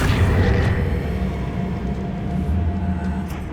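An Accio spell cast in the Hogwarts Legacy video game: a loud, sustained low rumbling surge with a whooshing edge, steady and unbroken for a few seconds.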